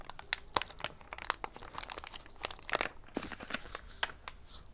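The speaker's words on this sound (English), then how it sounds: "be smarter than the package, Sherry." Udon noodle or mochi roll packaging is crinkled and pulled at close range, a busy run of sharp crackles and rustling tears in irregular bursts, with no talk.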